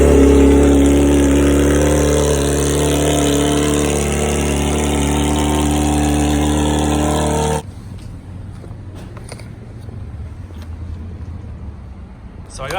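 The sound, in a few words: straight-piped Yamaha R6 engine cold start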